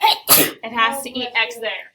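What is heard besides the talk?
sneeze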